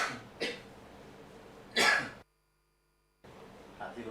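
A person gives several short coughs indoors, with one louder burst, then a moment of dead silence, and faint throat noise returns afterward.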